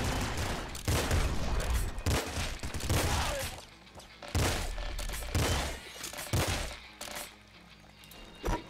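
Gunfire in the top-down shooter video game Nuclear Throne played on Switch, loud bursts of rapid shots arriving in repeated clusters with short pauses between, and no talk over them.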